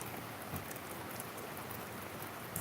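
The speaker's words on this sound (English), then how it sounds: "it's getting darker and starting to rain a little harder" Steady rain falling and pattering on surfaces, a constant moderate hiss with scattered drip sounds and no talking.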